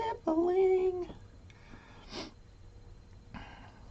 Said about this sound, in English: You hear that sniffling? Sniffling.